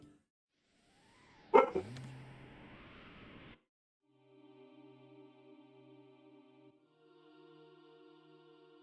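A pet dog barks sharply once or twice up close, then gives a run of softer whining and yipping sounds with pauses between them.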